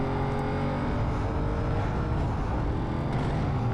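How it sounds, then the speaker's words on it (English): A relatively small supercharged V8 of about five litres in Need for Speed Most Wanted drones steadily and loudly, a dense, continuous engine roar with no talk. "a relatively small V8, something like 5 litres or something"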